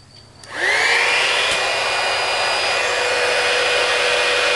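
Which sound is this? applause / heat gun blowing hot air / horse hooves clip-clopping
heat gun blowing hot air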